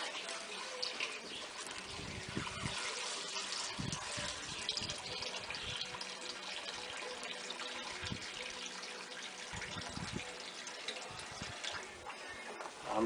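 Water poured slowly out of a 2-inch PVC gold trap sluice, a long steady trickling flow with faint low knocks and handling bumps underneath, close and quiet throughout.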